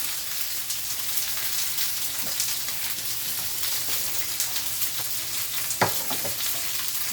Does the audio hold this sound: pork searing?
yes